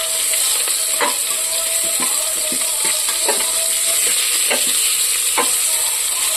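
Raw, soft mango pieces fry in a pan with a steady, close sizzle, while a spoon scrapes and stirs the mixture in regular strokes. No one speaks.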